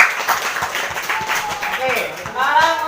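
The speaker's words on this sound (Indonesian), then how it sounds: "Oke, tepuk tangan untuk kelompok 1." A class of sixth-grade students claps briefly for group 1 during a long jump lesson, a short scattered round of applause mixed with voices talking over it.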